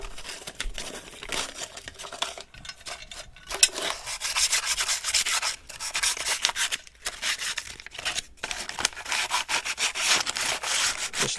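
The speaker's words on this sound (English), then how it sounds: "Just lightly sand it." Sandpaper is rubbed lightly over a pump part from a Keene 4-inch motor in a series of short, scratchy strokes with brief pauses between them, close and fairly quiet.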